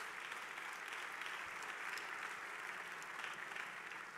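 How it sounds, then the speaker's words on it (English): A gathered crowd applauding themselves at a forum, a continuous even patter of clapping heard from a distance, fairly faint, with no voices over it. "Give yourselves an applause."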